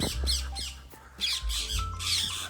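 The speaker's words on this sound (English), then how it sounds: "I think those birds are a bit distressed." Agitated birds squawk in harsh, repeated bursts along a city walk between Wimbledon and Streatham, loud and close, with brief pauses between calls and no one talking.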